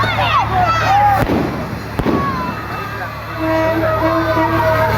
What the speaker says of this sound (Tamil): பானை வெடிக்கையோட